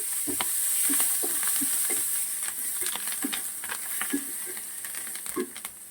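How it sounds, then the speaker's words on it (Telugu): Curry leaves tossed into hot oil for lemon rice: close, steady sizzle with sharp spitting pops and crackles scattered throughout as the leaves fry and are stirred. "ఇప్పుడు కరివేపాకు యాడ్ చేస్తున్నాను. చూడండి, కరివేపాకు యాడ్ చేశాను."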